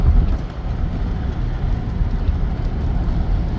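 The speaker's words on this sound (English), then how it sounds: "Right now we got rain and a few flashes of lightning." Steady rain during a storm while driving into Tennessee, a dense continuous wash of rain with low road and car rumble throughout, loud and unbroken, with no talking.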